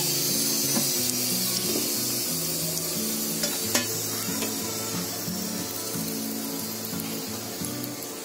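Pieces of flatbread roasting in ghee on a full gas flame give a steady, close sizzle with stirring scrapes and occasional faint taps, and no talk over it.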